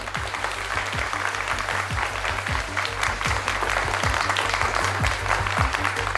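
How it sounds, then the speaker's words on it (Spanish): Sustained applause from an audience at a live talk on geopolitics and artificial intelligence, a thick continuous patter of many hands at an even level, with some lower thumps underneath. "lo primero que os voy a pedir es un aplauso para que se note que estáis ahí"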